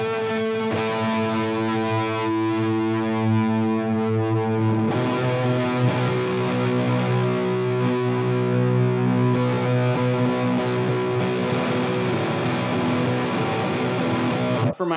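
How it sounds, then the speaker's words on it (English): Distorted electric guitar chords through a spring-style reverb pedal and an Orange Rocker 30 amp ring out with a lush, washy reverb trail; notes sustain and change midway before an abrupt stop at the end. "It's kind of based on a spring reverb"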